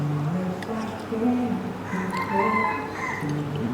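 A rooster crows a few times amid a noisy, bustling background with people chattering nearby at an all-you-can-eat noodle restaurant.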